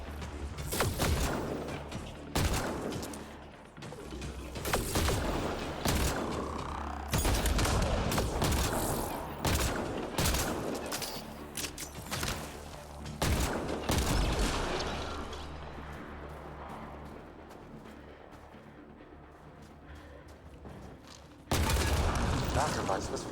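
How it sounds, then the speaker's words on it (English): Gunfire in Mass Effect: Andromeda aimed at a Ket device: loud bursts of rapid shots and impacts in several clusters, booming and crashing, with short quieter gaps and some talk between volleys. "Shooting the device will destroy it."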